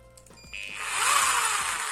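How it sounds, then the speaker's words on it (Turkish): An electric drill powered by a homemade inverter built from a UPS unit spins up after a few clicks, its broadband whine rising and holding steady, loud and close, with no talk. "Matkabımızı çalıştıralım."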